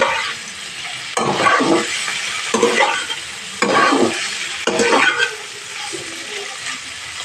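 Cauliflower frying in a pan, a steady sizzle with several louder bursts of stirring and scraping, close up, no voices.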